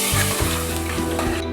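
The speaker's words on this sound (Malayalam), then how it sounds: "കടുവറുത്ത് ഇളം ചുവപ്പ് നിറമാകുമ്പോൾ അത് നമ്മുടെ കറിയിലേക്ക് ഒഴിക്കുക." Mustard seeds fried in oil for tempering are poured into a pumpkin erissery curry. The result is a loud, close, continuous sizzle with crackling spatter and no voices.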